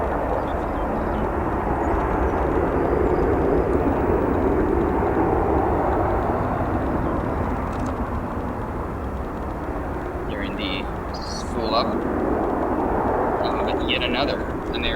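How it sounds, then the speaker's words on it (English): An American Airlines Boeing 737 jet at O'Hare airport gives a broad, steady engine roar that holds loud throughout, with a few faint higher sounds over it. "Yet another American Airlines 737 headed to Dallas Fort Worth"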